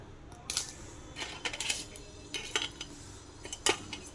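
Cleaned sea crabs dropped into a stone mortar for crab soup, heard as a handful of light, close clattering knocks and clinks spaced over a few seconds in a quiet setting.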